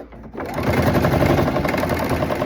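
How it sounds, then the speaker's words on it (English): A sewing machine starts up and stitches through fairly thin leather steadily at close range, a rapid mechanical rattle that runs continuously without talk. "I have quite a good sewing machine, and this leather isn't too thick"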